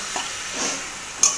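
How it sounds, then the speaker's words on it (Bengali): Taro leaves cooked with dried fish in a pan are stirred, giving a soft continuous sizzle and hiss with a few gentle scrapes and one sharper clack near the end, with no voices. "একসাথে এটাকে ভালোভাবে নাড়িয়ে নেব।"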